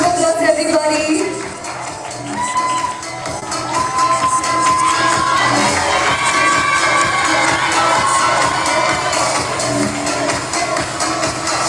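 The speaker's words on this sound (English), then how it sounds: "Big round of applause, everybody." A lively awards-ceremony crowd cheers and shouts over continuous applause, with high excited voices and whoops layered above a steady wash of clapping throughout.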